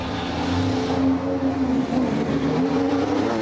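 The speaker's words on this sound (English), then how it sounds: "Firing up, the car is ready to go." A Red Bull RB20 Formula One car engine drones loudly and steadily nearby, a rough mechanical roar holding at a fairly constant pitch.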